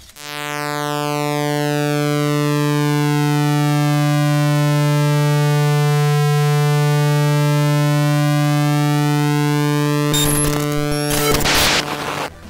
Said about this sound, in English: For pulse width modulation, this is what creates the SID sound effect.